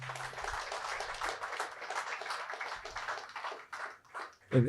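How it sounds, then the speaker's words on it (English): A round of applause from an audience, moderately loud and continuous, tapering near the end, with a faint low hum underneath. "How about a round of applause?"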